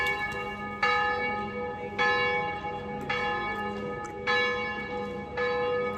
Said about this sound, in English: The bells are ringing, yeah.